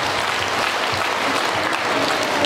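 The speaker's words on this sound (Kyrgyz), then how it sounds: "Кол чабып коюңуздар, урматтуулар." Dense, even applause fills a room at a small gathering honouring a boy who memorised the Quran, continuous and fairly loud with no voices over it.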